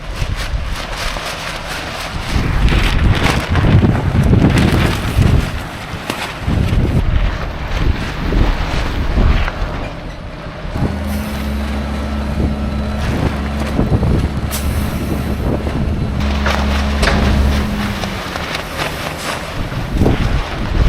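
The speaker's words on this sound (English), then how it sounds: "She's windy, she's very windy." Strong gusty wind roaring and buffeting the microphone in loud surges across an open field during silage making, with a steady mechanical hum joining partway through and no talking.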